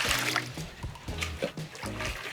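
Salt water poured into a pot for lobster mac and cheese, a splashing, gurgling pour in short bursts with a few low thuds, fairly close and steady over a couple of seconds.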